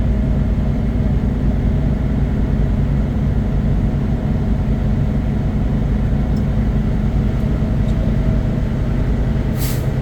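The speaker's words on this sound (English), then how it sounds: "when the governor kicks out, we'll hear a sneeze" A heavy truck engine idles with a loud, steady rumble while its air brake system builds pressure, until the air governor cuts out near the end with one sharp, brief sneeze-like burst of escaping air.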